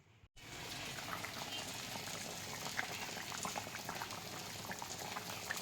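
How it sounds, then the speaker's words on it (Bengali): A pot of thin fish curry with papaya bubbling away, a steady close hiss of simmering liquid with small popping bubbles that starts abruptly after a brief quiet moment and continues evenly. "মাছের ঝোল করছি, পেঁপে দিয়ে পাতলা ঝোল।"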